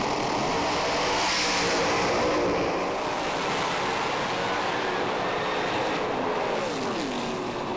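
Drag racing cars build revs on the start line and launch down the strip, a loud, roaring engine blast that swells and then fades as the cars pull away, with no talk over it.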